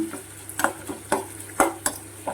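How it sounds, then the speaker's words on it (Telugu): Tempering spices frying in a pan for a mango roti pachadi, with a low steady sizzle and about six distinct spatula scrapes and clinks against the pan in an uneven rhythm, close and clear. "ఇలా చూడండి బాగా ఎర్రగా వచ్చిన దాకా వేపుకోవాలండి చూడండి పోపు అంతా బాగా వేగిపోయింది"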